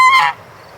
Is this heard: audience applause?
no